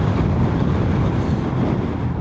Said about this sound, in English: Very windy today, folks, I hope you can hear me